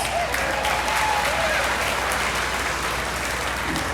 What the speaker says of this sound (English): you gotta start by giving yourselves a round of applause